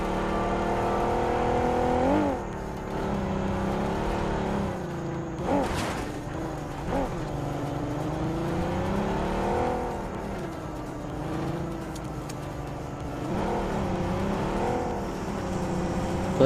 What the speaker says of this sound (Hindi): तो ये गाड़ी उठा के निकल जाते हैं आगे की तरफ